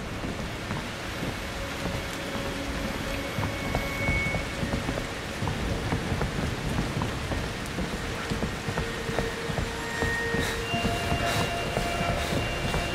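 Steady rain with thunder inside the horror video game Outlast 2, a dense continuous downpour hiss with low rumbling rolls running through the whole stretch, no voices over it.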